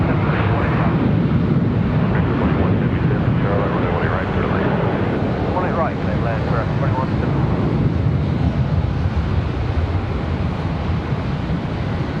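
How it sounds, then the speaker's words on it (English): Boeing 737 jet departing Charlotte Douglas airport, a sustained rumbling engine roar with wind buffeting at the microphone, while a voice talks over it. "So we have a 737 departure."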